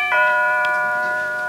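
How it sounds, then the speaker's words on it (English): A doorbell ringing in a TV studio setting, a single clear electronic chime with steady ringing tones that sustain and slowly fade over the short moment, heard alone with no talk. "Is that the doorbell?"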